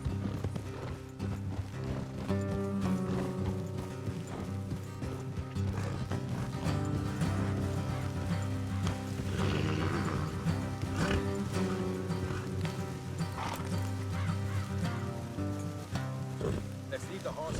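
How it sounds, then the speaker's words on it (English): Horses trot with clip-clop hooves in Red Dead Redemption 2, steady under a dense bed of game music and character dialogue throughout. "Let's leave the horses here and go the rest on foot."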